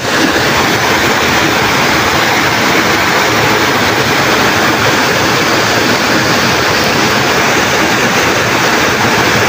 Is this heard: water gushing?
yes